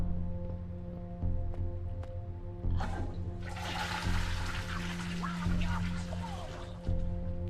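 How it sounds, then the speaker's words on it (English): A toilet flushes in a horror video game, a loud rushing swirl of water starting mid-clip and draining away over several seconds beneath a steady humming ambient drone. "I can flush the toilet."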